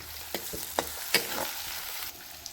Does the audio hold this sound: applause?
no